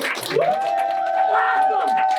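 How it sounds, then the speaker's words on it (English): An audience claps and cheers at a comedy show, with scattered claps and whoops under a loud, sustained voice and crowd noise. "Clap for Danya, clap for Mary."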